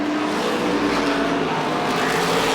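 Modified race cars racing at Lee USA Speedway, a dense continuous roar of several engines through a corner, loud and steady with no break.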